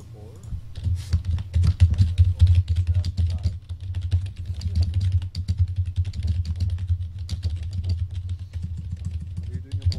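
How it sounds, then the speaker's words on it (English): Rapid, continuous typing on a computer keyboard clatters in dense bursts over a steady low engine-like rumble, during a game of Cards Against Humanity with players nearby. "You're typing furiously"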